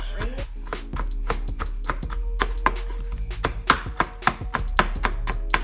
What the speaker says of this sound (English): y'all know how to slice up onions, right? Onions real fine, real fine.